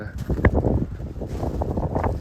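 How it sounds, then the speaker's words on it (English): Gusty wind the day after a storm buffets the microphone with low rumbling bursts while a person talks nearby beside a Honda Civic 1.4 i-VTEC. "I do apologise, it's a bit windy today."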